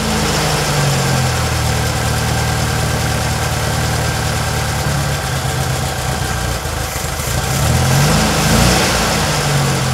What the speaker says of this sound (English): it roared right to life, and quite pleased with how it was running